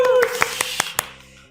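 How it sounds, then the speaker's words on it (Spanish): A few hands clapping at the start of a Spanish-language talk show, with about five sharp claps spaced roughly a fifth of a second apart over a faint voice, then fading. "Un aplauso, por favor"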